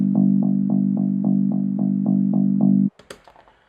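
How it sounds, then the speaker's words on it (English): Walking bass sample from an ambient music project: a steady run of about nine even, plucked low bass notes, loud and close with no talk, cut off sharply, followed by a few faint scattered clicks. "This is the other bass. It's just a walking bass kind of rhythm."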